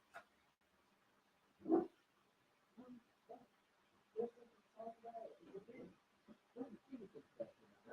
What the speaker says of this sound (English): He's barking at the bloody neighbour's wheelie bin.